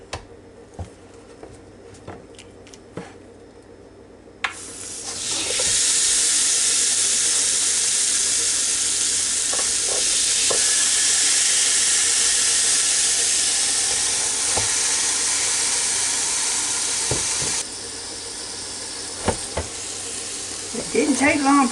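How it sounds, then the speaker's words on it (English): Seasoned pork chops land on a George Foreman grill and a loud, steady sizzle begins after a few quiet seconds of light clatter, hissing continuously before easing slightly near the end, with occasional small knocks. "we're going to put them on the grill and just cook them just a little bit"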